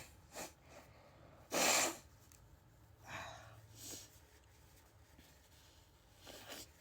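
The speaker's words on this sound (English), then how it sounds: "I need to go blow my nose." A person with a head cold blows their nose in a sharp, loud burst of a second or so, with a few quieter sniffs and snorts around it against a quiet background.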